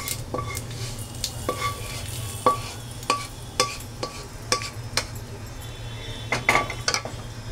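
Hot tempering is poured into karamcha pickle, making a low sizzle under a run of sharp, evenly spaced metallic clinks as a spoon stirs against the pot, close up with no voices.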